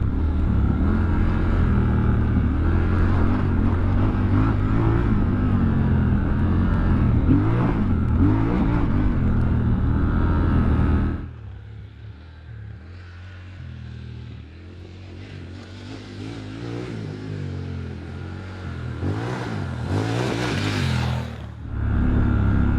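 A Triumph Scrambler 1200XE motorcycle engine roars off-road under steady throttle, loud and continuous, dropping to a lower rumble midway before revving up again near the end.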